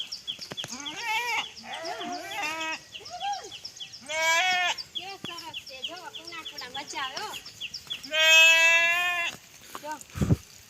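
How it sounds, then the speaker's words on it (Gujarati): Several loud, close goat bleats in wavering bursts, one after another, with pauses between calls, in hilly countryside during rain. "જો બકરા બોલે એ બકરું"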